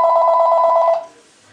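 Telephone ringing loudly and close, a steady electronic trill that lasts about a second and then cuts off, leaving faint room noise.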